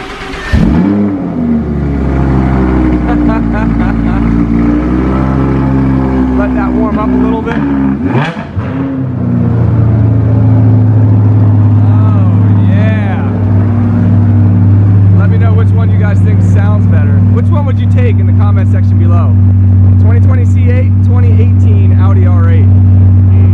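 Cold start of an Audi R8 V10 or a C8 Corvette V8, a loud engine rev that flares and then settles into a deep steady idle, with voices talking over it.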